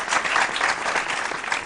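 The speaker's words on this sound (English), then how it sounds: "A round of applause for them, please." Applause from the audience at a school quiz competition as a ranked basic school team is introduced, a short, loud burst of dense clapping throughout.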